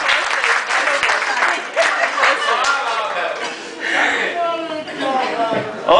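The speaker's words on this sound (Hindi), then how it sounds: "एक बार ठोको ताली।" A comedy show audience breaks into loud, sustained applause, dense clapping filling the hall with a few chuckles and voices mixed in.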